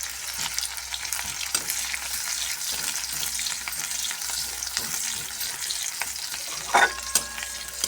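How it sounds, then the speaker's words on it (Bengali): Chopped onions frying and sizzling in a pan while cooking potato curry (aloo dum), a steady close hiss with occasional stirring clatters and a brief louder scrape near the end. "পেঁয়াজটাকে ভালো এবারে ভাজতে হবে।"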